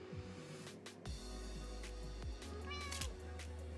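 A cat meows repeatedly indoors, several drawn-out mews of varying pitch sounding over a constant low hum, fairly close.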